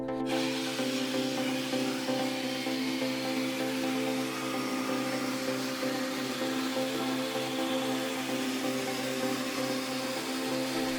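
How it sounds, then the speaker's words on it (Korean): Corded jigsaw cutting a curve through wood, a loud, steady buzzing motor hum with a continuous rasping blade-cutting noise that keeps going without pause, and nobody speaking. "이번에는 직속의 고유 기능이라고 할 수 있는 곡선 작업을 한번 해보았습니다."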